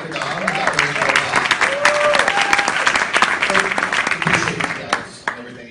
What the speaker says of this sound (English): A big round of applause for Dr.